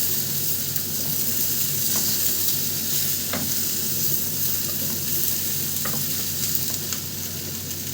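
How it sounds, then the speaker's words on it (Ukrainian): Steady, dense sizzling of eggplant slices frying in a pan, with a few faint clinks and scrapes. "сині мої смажуться"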